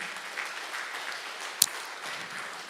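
A church congregation claps for its small-group shepherd leaders, a faint, steady patter of hands that carries on for a few seconds with one sharper clap standing out near the end.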